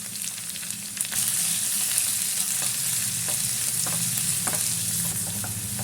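Potatoes fry in a pan with onion and salt for an Afghani egg omelette, giving a loud, steady, close sizzle with occasional stirring scrapes throughout and no voices.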